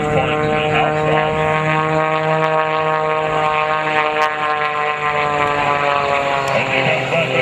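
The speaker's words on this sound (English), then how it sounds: "Brett takes the airplane around into the outside turn" Aerobatic propeller airplane flown by Brett Hunter through an outside turn at the 2009 Selfridge airshow, its engine a loud, steady droning buzz with strong harmonic whine throughout, close and continuous.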